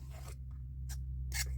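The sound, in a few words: trimming a paper template along a score line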